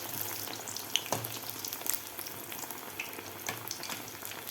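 Taro leaf fritters frying in hot oil over high heat, a steady close crackling sizzle with occasional louder pops, continuous throughout with no talking.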